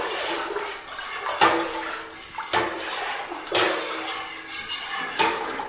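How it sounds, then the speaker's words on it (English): Corn wine must is stirred with a freshly sanitized utensil after orange juice is added, giving sloshing liquid swirls and light scraping in repeated strokes, close and moderately loud. "giving it a nice little stir with our freshly sanitized utensil here"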